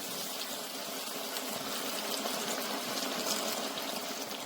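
Vegetable oil, about a quart, poured into a frying pan, a steady, close, broadband liquid rush and hiss that continues evenly without pause.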